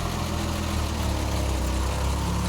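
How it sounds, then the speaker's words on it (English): A Peugeot 505 V6 with a manual gearbox idles close by with a dense, continuous rumble, running rough and slightly pulsing, with no voices. "The engine is kind of pumping."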